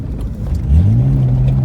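Mitsubishi VR4 running on E85 ethanol fuel accelerating, a steady engine tone climbing in pitch midway and holding, heard from inside the car, loud and alone.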